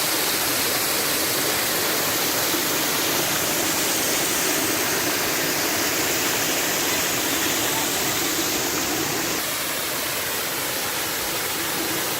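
Air Terjun Mangkol, a waterfall in Indonesia with water falling from the mountains, heard as a loud steady broadband roar that fills the whole span without pause.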